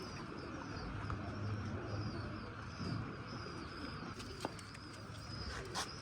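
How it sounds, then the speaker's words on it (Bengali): Pigeons for sale, including large-winged birds, coo softly and low among a steady noisy background, with a few sharp clicks and rustles near the end. "এই যে কবুতরের পাক, বড় পাখে কবুতর, অসাধারণ কবুতর দেখেন।"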